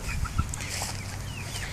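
Backyard chickens, including a barred rock, clucking softly as baby chicks are introduced to the flock; faint, scattered calls over steady outdoor background noise.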